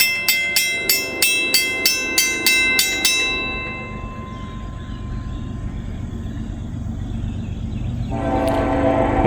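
A passing train's horn blares in a long series of loud, evenly spaced blasts at a crossing in Walton, then fades into the steady low rumble of rail cars rolling past.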